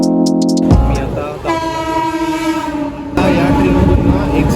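A Mumbai local train, the Ambernath down service, opens with a loud horn blast, then rolls in with heavy rumbling and rhythmic wheel clatter that swells again toward the end.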